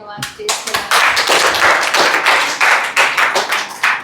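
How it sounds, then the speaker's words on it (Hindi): A church congregation at a Holy Communion service in Andaman claps together in a steady, loud rhythm, with voices mixed in beneath the clapping. "परमेश्वर के लिए ताली बजाएंगे हम"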